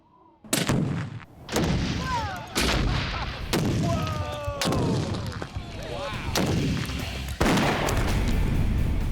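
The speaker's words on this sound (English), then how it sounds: "doubling the material gave us at least double the explosion, if not more" A double load of Hollywood binary explosive is set off by a bullet. A series of loud, sharp gunshot-like blasts with booming tails follows, about six or seven reports spaced over several seconds, near and powerful.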